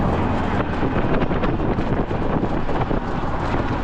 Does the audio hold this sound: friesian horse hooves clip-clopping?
no